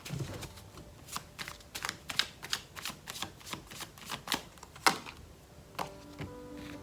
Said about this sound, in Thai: สับไพ่นะ